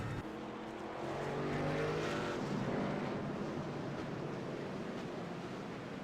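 A race car engine at Rockingham in the iRacing video game drones loudly and steadily, a rough buzzing roar that holds for several seconds without speech.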